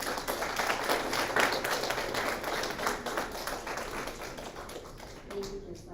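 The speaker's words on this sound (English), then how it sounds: "we owe all of you a huge round of applause" Applause from the audience at a student government general body meeting, a steady spread of clapping filling the room at moderate loudness before it tapers off at the end.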